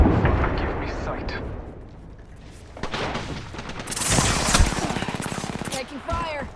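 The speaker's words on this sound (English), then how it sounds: "The enemy is shooting at me." Gunfire from a futuristic multiplayer shooter video game, dense bursts of shots and blasts building into heavy, continuous fire in the second half, mixed with game voice lines and other action sounds.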